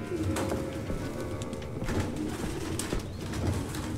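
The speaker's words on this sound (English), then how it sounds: "No human could live with all these fucking pigeons." Pigeons coo repeatedly in a cluttered room in the video game Detroit: Become Human, a steady layered cooing from several birds over a constant background bed with no talk.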